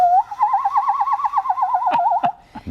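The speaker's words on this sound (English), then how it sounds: "my ocarina makes sort of a bird-like sound" A handheld ocarina plays a bird-like warbling trill, a bright wavering tone held for about two seconds, followed by a few sharp clicks.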